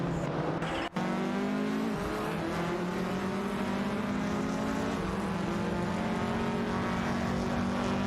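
Race cars in the Live for Speed racing game, engines holding a loud steady whine with gear shifts and a brief tire screech near the start.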